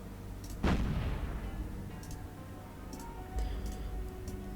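Secondary guns on a warship fire in the naval combat game War on the Sea during an Imperial Japanese Navy Pacific campaign battle against heavy cruisers. One loud, sharp report is followed by a lighter distant boom and faint ticking clicks.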